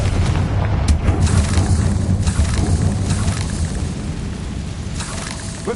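Explosion from the Confringo spell in Hogwarts Legacy on PS5: a loud, rumbling boom followed by sustained crackling debris and a decaying roar.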